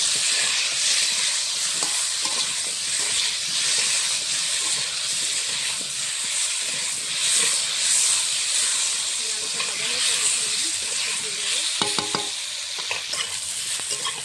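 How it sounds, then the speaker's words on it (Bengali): Potatoes fry in a pan with salt and turmeric, giving a steady loud sizzle and hiss with occasional scraping stirs and a few sharp clinks close by. "আলুটা ভাজা হয়ে গেছে"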